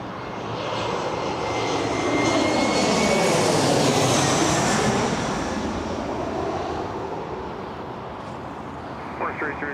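Jet engines of an airliner at Toronto airport swell to a loud, broad roar that peaks and slowly fades as the plane passes close by, with faint radio chatter in the background.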